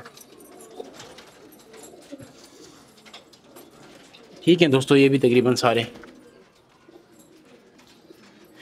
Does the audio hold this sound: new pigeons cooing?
yes